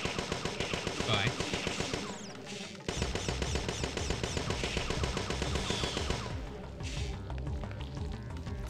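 Rapid automatic gunfire from Parasite Eve II rattles in dense, continuous bursts, loud and close, with a brief break near the three-second mark before the barrage resumes; no one talks.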